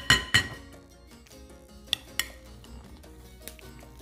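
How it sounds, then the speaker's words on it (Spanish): A utensil stirs a potato, cheese and ham mixture in a bowl, with a few sharp clinks against the bowl scattered among quieter scraping, close and clear. "Tratar de revolver un poquito."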